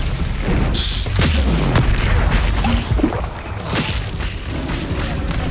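Confringo explosive spell blasts in the Hogwarts Legacy video game, loud booming impacts and thuds layered over dense combat effects and a busy game soundscape, continuous and close.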